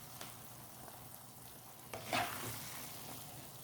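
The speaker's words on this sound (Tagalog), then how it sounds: "Halo-haloin. Mix-mix lang." Sticky glutinous rice mixture for biko being stirred in a pan, a faint soft bubbling with one brief louder scrape near the end, close and quiet.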